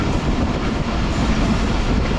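A train at Shorkot Junction railway station in Pakistan, a steady, dense rumble of rolling wagons that stays loud and unbroken throughout.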